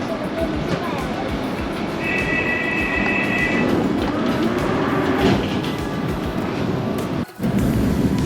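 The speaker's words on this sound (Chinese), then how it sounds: "今天我真的搭到这个超级复古的小号的电车" A vintage compact tram rolls through Prague with a steady low rumble and rattle that runs the whole time, plus a short high-pitched whine partway through and a brief drop near the end.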